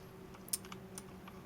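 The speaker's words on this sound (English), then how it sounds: "So I'm going to click" Soft computer mouse or keyboard clicks, a few light, brief taps over a quiet background hum, with one slightly sharper click near the middle.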